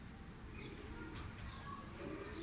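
Pigeons coo inside a pigeon coop, their low soft cooing repeating over a dense, noisy background.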